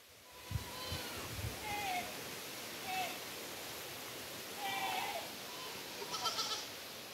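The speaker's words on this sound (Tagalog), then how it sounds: "O, dalhin ko na yung aking mga kambing dun." Goats in a farm pen, several short bleats scattered over a few seconds, fairly faint against steady background hiss, with a person's brief call and movement noises early on.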